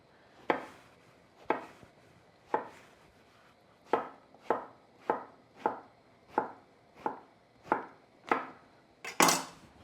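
An eggplant is cut into chunks a bit bigger than three-quarters of an inch with a knife on a board: about a dozen sharp, close chops in an uneven rhythm, separated by near-silent pauses, the last one louder.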